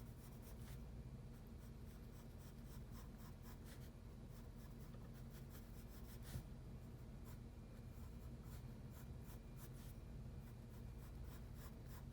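A pencil scratches across paper, softly laying down a dark line beneath a blue jay's beak in a drawing. The strokes are faint, close and steady, with short repeated scrapes over a low room hum.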